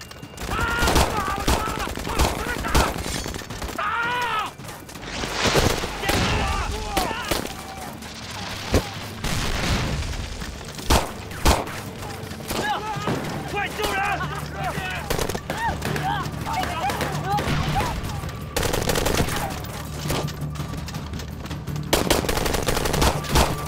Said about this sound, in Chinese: 开火！